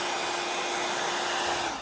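A hair dryer blows steadily at close range over alcohol ink art, a continuous broadband whoosh with no pauses or talk.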